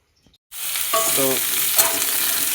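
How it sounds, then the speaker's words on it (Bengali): Potatoes are added to hot oil after a moment of silence, and a sudden loud sizzle bursts out and then holds steady, close and bright, with light crackling. "তেল গরম হয়ে গেছে, আর আলুগুলো দিয়ে দিয়েছি। আলুগুলোকে আগে একটু ভেজে নেবো।"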